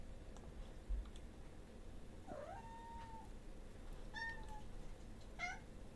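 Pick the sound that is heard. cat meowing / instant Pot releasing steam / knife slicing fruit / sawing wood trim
cat meowing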